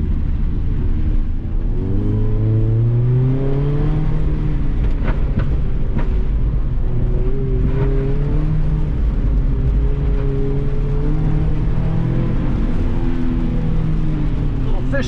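A car driving an autocross course on a damp track, its engine a steady low rumble with rising and falling revs as it works through the turns, loud and close, as if heard from inside the car.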